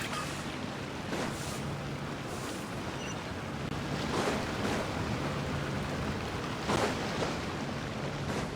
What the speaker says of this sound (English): The sound of the waves in this familiar port.